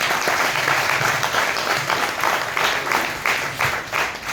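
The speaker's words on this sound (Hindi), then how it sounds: "जोरदार ताली होनी चाहिए।" A crowd at a company meeting claps loudly and continuously, a dense, sustained round of applause throughout.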